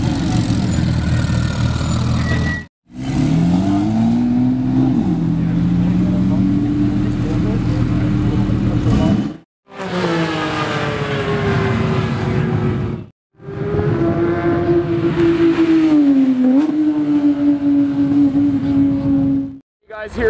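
A straight-piped Porsche 911 GT3 engine revs loudly and close, in several long pulls separated by brief silent gaps, its pitch climbing and sweeping through each burst.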